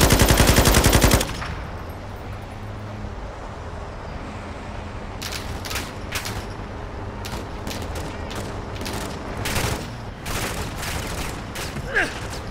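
Gunfire in Call of Duty Modern Warfare 2 opens with a loud, rapid automatic burst, then scattered sharp single shots and short volleys crack over a low rumbling background.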